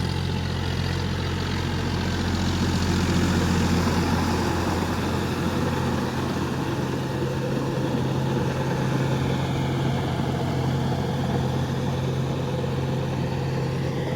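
A tractor engine runs steadily while ploughing a muddy field, a loud continuous low drone and rumble with little change across the whole stretch and no voices.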